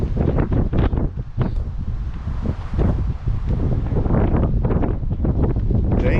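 Strong wind roars continuously across the microphone at Ġnien l-Għarusa garden in Mosta, Malta, buffeting and rumbling in loud gusts with no other sounds standing out.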